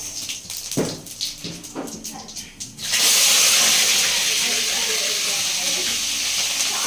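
Onions with mustard seeds and cumin hit hot oil in a pan, a few clattering stirs giving way to a sudden, loud, sustained sizzling hiss, with no talk.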